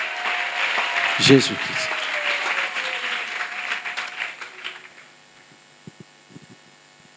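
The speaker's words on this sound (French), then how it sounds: "Clap offering for Jesus Christ." A church congregation claps loudly for Jesus Christ, a dense burst of applause that fades after about five seconds over a low mains hum. A voice speaks during the clapping.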